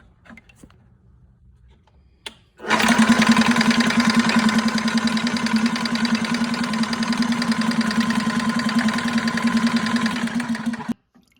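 A Graco Magnum ProX17 paint sprayer pump switches on after a short quiet stretch and runs at a steady, loud, droning pitch without pause for about eight seconds, then shuts off abruptly.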